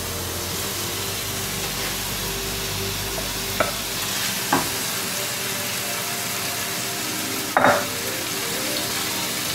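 Ground beef sizzling steadily in a skillet with ginger and garlic, a constant hissing fry with a few scraping stirs of the spoon against the pan.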